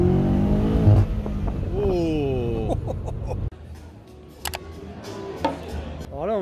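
A BMW M8 Gran Coupé from 2020, in Tokyo, revs hard with rising and falling engine sweeps, then the sound drops to quieter traffic and street noise with a few sharp clicks.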